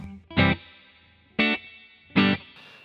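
Three crunchy distorted electric guitar chords ring out through an amp, each struck sharply and left to sustain briefly before the next.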